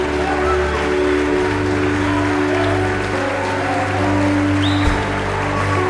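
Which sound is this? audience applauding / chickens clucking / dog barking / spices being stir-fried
audience applauding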